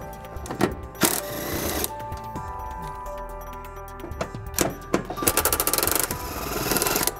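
An impact tool on an 18 mm socket works two frame bolts loose on a 2002 Jeep Grand Cherokee during a trailer hitch install, giving several sharp rattling bursts with clanks and quieter mechanical noise in between.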